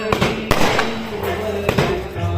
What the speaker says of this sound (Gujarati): આ જો તમારા ફટાકડા ફૂટેરા તમારી વિદાય માટે